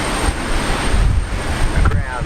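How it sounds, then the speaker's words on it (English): Strong wind buffets an outdoor microphone at an airport during a cyclone, a constant loud low rumble and roar that swamps everything else for the whole stretch. "It's too windy, I can't hear anything."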